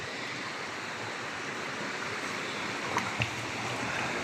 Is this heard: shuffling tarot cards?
no